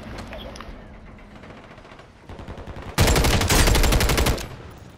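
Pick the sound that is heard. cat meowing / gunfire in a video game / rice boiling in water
gunfire in a video game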